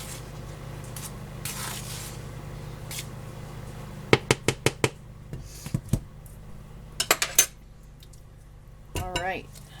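A spoon clinks against a bowl while mixing pumpkin cranberry bread batter, quick bursts of sharp metallic taps over a quiet kitchen hum, followed by a brief rustle.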